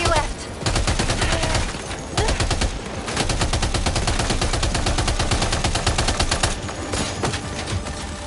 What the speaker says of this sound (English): Keep firing! Only a few left.